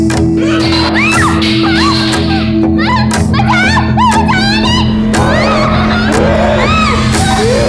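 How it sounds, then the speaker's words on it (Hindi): A woman screams and wails in distress during a crime drama scene, loud and continuous with rising and falling pitch, while other voices shout over a steady background hum. "क्यों चिल्ला रही है?"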